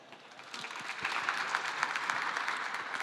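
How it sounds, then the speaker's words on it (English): A panel audience at a partnerships conference breaks into applause, dense clapping swelling from quiet to steady and sustained, heard from within the hall without speech over it. "Are we clapping?"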